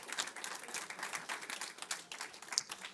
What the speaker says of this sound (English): So round of applause for Hannah for answering my email.